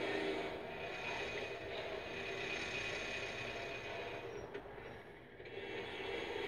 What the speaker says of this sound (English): Oh my goodness, that fucking train nearly got me.